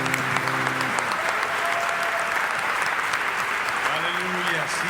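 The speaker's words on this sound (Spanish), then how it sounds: "vamos a dar un fuerte aplauso a aquel que es fiel" A church congregation bursts into a loud, sustained round of applause that fills the room with dense, continuous clapping, and voices sound faintly at the start and near the end.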